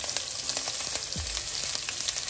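Green chilies and curry leaves hitting hot oil for Palakkad-style spicy nombu adai, a close, steady crackling sizzle with sharp pops scattered throughout.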